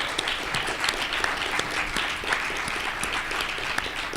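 Audience applause after a student presidential debate, a dense steady wash of many hands clapping throughout, fairly loud and continuous with no talk over it.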